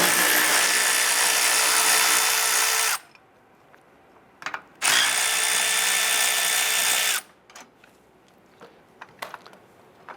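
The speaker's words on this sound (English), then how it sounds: "We use our 10mm socket. We're going to remove the bolt here, and we're going to loosen our nut right here on the J-bolt" Power ratchet or drill driving a 10mm socket on a Toyota Camry battery hold-down bolt, with two long, loud whirring runs separated by a pause, then a few faint clicks and taps.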